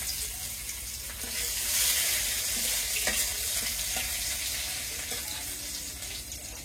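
Hot oil sizzles steadily in a cooking pan in a village kitchen, a constant bright crackle with small pops and stirring clinks, close and fairly loud throughout.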